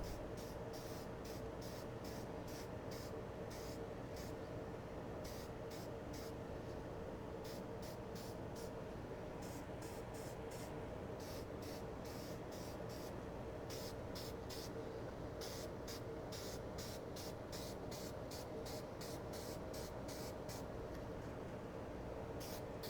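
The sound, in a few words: spray painting a model car body with a light coat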